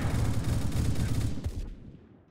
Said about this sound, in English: His machine pistol.